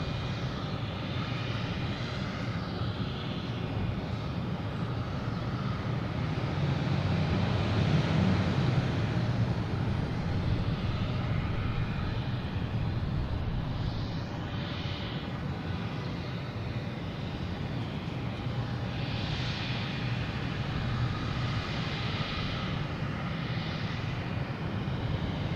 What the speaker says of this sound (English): next coming in is American Airlines from DC